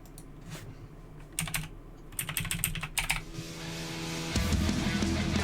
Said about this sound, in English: Nice clicky clack off my mechanical keyboard,